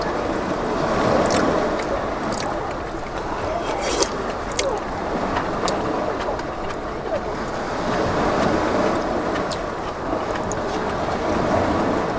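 Ocean surf washes steadily at the seaside of Waemok village in winter, a continuous broad wash with gusts of wind noise on the microphone and occasional faint voices nearby.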